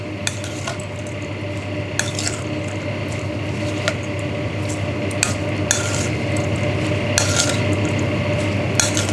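Utensils scrape and clink against a bowl while a Thai long eggplant dish is mixed, with sharp metallic taps recurring every second or so over a steady background hiss.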